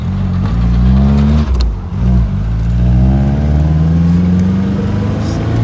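A 1967 Austin-Healey Sprite engine starts and rumbles loudly and steadily, its pitch dipping and then rising as it revs, close by with no voices.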